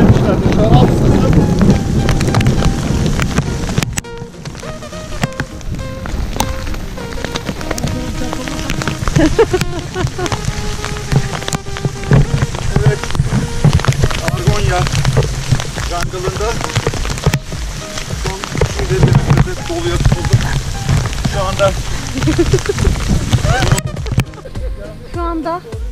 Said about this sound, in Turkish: Aha dolu yağdı.